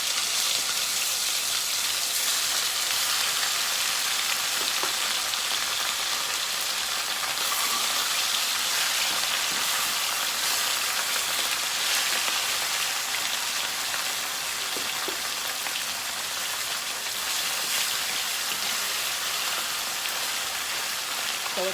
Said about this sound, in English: So we're gonna let that fry up.